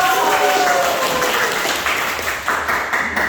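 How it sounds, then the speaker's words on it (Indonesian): Students in a classroom break into a burst of clapping and cheering, loud and close, with voices mixed in as it tapers off. "Tepuk dulu"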